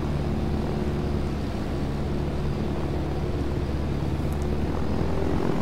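A propeller airplane engine in the military game Arma 3 drones steadily and loudly throughout, with a constant low hum and no voices.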